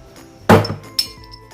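Soda bottle cap knocked off against a wooden table edge with a palm slap, one sharp loud smack followed by a lighter glassy clink a half second later, close up.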